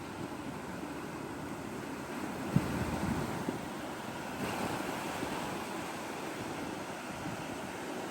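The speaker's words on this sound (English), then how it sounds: "we can take a moment just to listen to the nice pretty waves" Ocean surf rolls in a continuous wash of noise, with wind buffeting the microphone and no voices.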